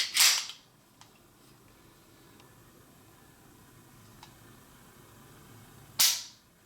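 Crisp pistol trigger clicks from a PM45 handgun, one sharp snap at the start and another near the end with faint mechanical ticks between, close and isolated in a quiet room.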